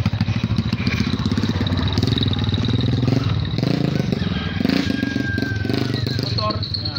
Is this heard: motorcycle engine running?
yes